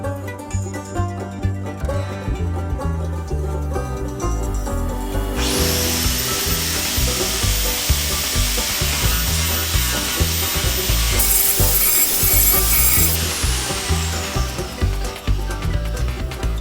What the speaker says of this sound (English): I got the old grinder out